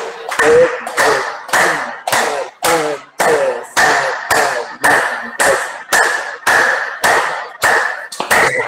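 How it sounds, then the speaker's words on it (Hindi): A yoga session group claps hands in a steady rhythm, about a dozen sharp, loud claps spaced roughly evenly, each crisp and close with no talking over them. "चलिए इसी में बजा लेते हैं तालियां"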